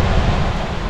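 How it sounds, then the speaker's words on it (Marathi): Sea waves wash against the coast below Purngad Fort in Ratnagiri, a loud, steady broadband surf roar mixed with wind buffeting on the microphone, heard alone without voices. "समुद्राच्या लाटांचा तो आवाज आपल्याला 2 मिनिटात शांत करतो"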